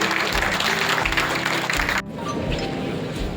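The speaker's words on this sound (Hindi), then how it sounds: "ताली जरा जोरदार हो जाए।" Crowd applause at a state-level blood donation camp marking the 350th martyrdom day of Guru Tegh Bahadur, loud clapping that drops abruptly to a softer, scattered patter that carries on to the end.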